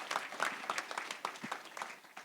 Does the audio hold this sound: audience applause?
yes